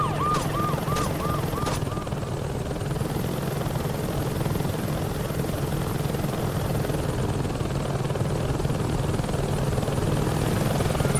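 Helicopter in the video game Saints Row 2 on PS3: a loud, steady rotor and turbine drone throughout, with brief electronic beeps early on and a high whine running across the middle, no talking.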